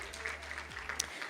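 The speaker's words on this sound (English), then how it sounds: "we normally clap for our sisters when they're coming up." Applause from a conference audience at a women's health regional dialogue as a moderator comes on stage, a thin steady patter of many hands at moderate distance.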